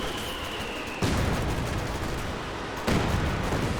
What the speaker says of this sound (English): Grenadiers now firing away.